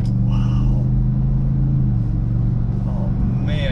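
The engine of a 2019 GMC Yukon AT4 SUV rumbles and revs at close range, a deep throaty exhaust note rising and settling with faint road noise.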